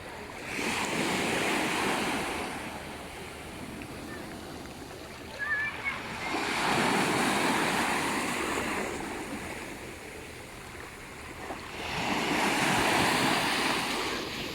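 Sea waves break and wash onto a beach in Spain in long rolling surges, swelling and receding about every six seconds, with steady wind noise and faint voices in the background.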